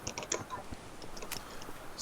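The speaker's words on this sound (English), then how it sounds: "Sound of Orden typing stuff." Someone taps away at a computer keyboard in a quiet room, a soft, irregular run of light clicks and key presses, faint and close, with no one speaking.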